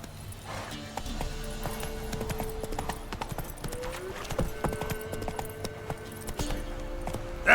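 Roach's hooves trot in a steady, close clip-clop rhythm in The Witcher 3, with soft game ambience and faint music underneath.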